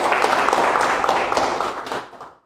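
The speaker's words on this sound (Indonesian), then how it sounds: "Tepuk tangan buat Anda semua" A room of seminar attendees at a business talk clapping together, a brisk, fairly loud burst of many hands that tapers and stops abruptly after about two seconds.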